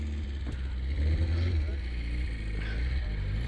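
A Mighty Ant vehicle idles with a low, rumbling engine that rises slightly as it pulls away, with someone talking over it.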